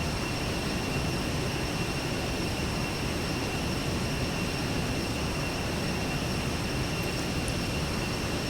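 An Aerobask Viperjet in a high-speed descent in X-Plane 10 gives a dense, even roar of engine and wind noise. It holds steady and loud throughout, with a faint high whine and no talking.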